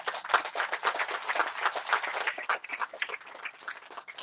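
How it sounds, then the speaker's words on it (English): An audience at a 2021 graduation ceremony claps steadily for faculty and staff, a dense round of many hands that holds for several seconds, then thins slightly toward the end. "applause."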